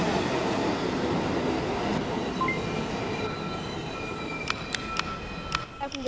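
A Manhattan-bound NYC subway 1 train rumbles along, steady wheel and car noise with faint tonal whines, then sharp squeals and clicks near the end as it rolls on.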